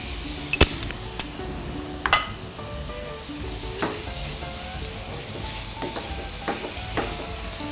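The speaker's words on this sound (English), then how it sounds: "while the prawns are frying" Oil sizzles steadily in a pan as prawns and garlic fry, while a utensil clacks and scrapes against it several times, sharp knocks scattered over the frying hiss.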